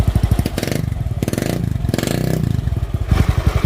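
A motorcycle engine with a stock exhaust pipe revs repeatedly with a crisp, crackling exhaust, pulsing loudly between bursts of throttle and brief lulls, close by.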